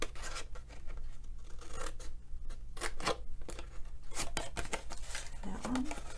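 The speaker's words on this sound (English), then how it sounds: "Wherever there's a diagonal, I'm going to cut that square away." Scissors snipping squares out of paper or card for a Valentine candy bowl, a run of close, crisp cuts and rustling handling at an uneven pace, with brief speech between them.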